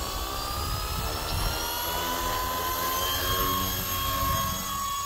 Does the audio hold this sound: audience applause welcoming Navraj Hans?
no